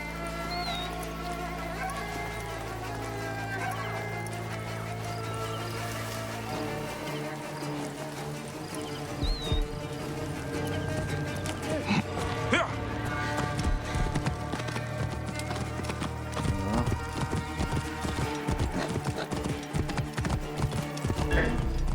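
Rhythmic horse hooves clip-clopping at a trot amid game music and ambient effects, with occasional neighing, in Assassin's Creed Odyssey.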